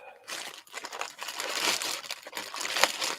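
Scissors work through a piece of plastic netting up close, giving a continuous rough crinkling, crunching and snipping sound with no talk over it.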